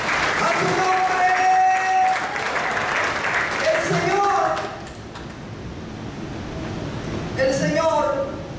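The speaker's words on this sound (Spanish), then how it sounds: "Den un fuerte aplauso al Padre, al Hijo y al Espíritu Santo." A church congregation claps in a strong round of applause at a worship service, the clapping mixed with a voice and tonal sounds and fading in the middle before swelling again near the end.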